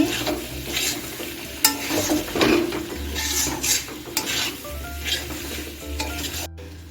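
Banana flower and prawn mixture being stirred in a pan, rhythmic scraping strokes over a gentle sizzle, close and moderately loud with no voices.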